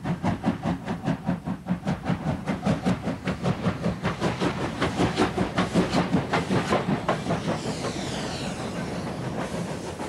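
A South African Class 23 steam locomotive double-heading with a GMAM Garratt pounds along in steady rhythmic chuffing, loud and close, with clanking wheels and hiss beneath, the beat easing into a smoother rush near the end.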